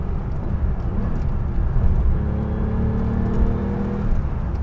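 Porsche 911 2.7 Carrera RS with its rear-mounted 2.7 flat-six on Bosch mechanical fuel injection, a loud steady mechanical drone with a rising whirring tone, heard without talk.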